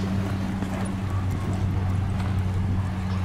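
Racehorses gallop along a 300-yard straight track at a Cleveland, Texas race, their hoofbeats buried in a dense, steady roar of outdoor noise while an announcer talks.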